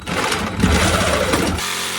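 A power saw cuts through a thick steel roll cage bar inside a Pontiac Grand Prix, making a loud, continuous, gritty buzzing drone that stays close and unbroken throughout.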